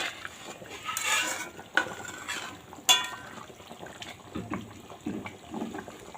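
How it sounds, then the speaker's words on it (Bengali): Meat curry being stirred in a pot after garam masala goes in, with scattered scraping and clinking of a utensil against metal, soft wet stirring and a couple of sharper knocks, close by and without speech. "এখন এই যে গরম মশলাটা আমি এর মধ্যে দিয়ে দেব, দিয়ে একটু নাড়িয়ে নিয়ে তরকারিটা নামিয়ে নেব"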